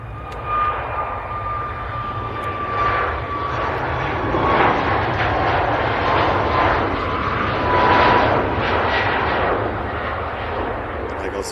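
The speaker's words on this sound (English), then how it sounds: "Ryanair 737-8200 on the roll." A Ryanair Boeing 737-8200 jet takes off at Manchester Airport, its engines building into a broad, rumbling roar heard from a distance and swelling as the aircraft rolls down the runway.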